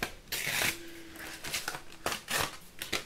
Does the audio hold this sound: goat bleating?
no